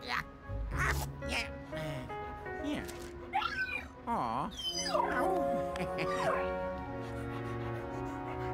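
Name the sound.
dog barking and whimpering in Luigi's Mansion 3 video game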